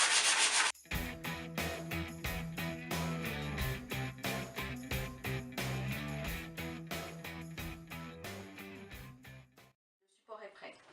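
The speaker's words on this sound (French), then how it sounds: "Donc on commence par le ponçage." Hand sanding of a painted tray with chipped, flaking paint, a brisk, regular back-and-forth rasping close by, strokes repeating steadily before stopping near the end.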